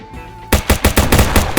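Rapid bursts of automatic gunfire in the video game Streamer Life Simulator, a quiet half second followed by loud, closely spaced shots that keep going steadily to the end.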